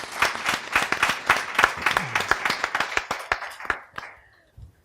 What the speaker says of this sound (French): faire un tonnerre d'applaudissements pour elle